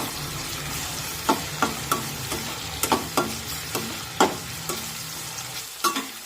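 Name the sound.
chopped tomato cooking in a pan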